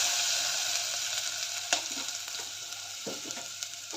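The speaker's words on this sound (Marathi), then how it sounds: "आता हे सर्व तेलामध्ये परतून घेऊया." Ground chilli, coconut, garlic and cumin paste frying in hot oil with mustard seeds and cumin, a steady close sizzle with a few sharp pops and stirring scrapes, no voices.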